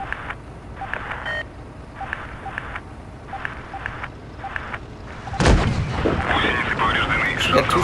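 Tank cannon fire in World of Tanks Blitz comes as a series of short repeated bursts at steady intervals, then a loud sharp shot followed by sustained rumbling noise.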